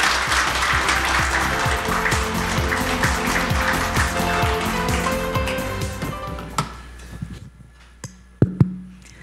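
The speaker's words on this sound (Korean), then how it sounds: "박수로 환영해 주시면 좋겠습니다." Sustained applause from a large forum audience welcoming a keynote speaker, loud and steady, then tapering off into scattered claps and quiet.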